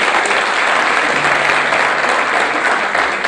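Steady, dense applause from a concert audience at an anniversary performance of an orchestra in Silivri, a continuous wash of many hands clapping close and loud throughout with no pauses.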